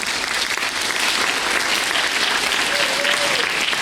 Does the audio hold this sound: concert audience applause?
yes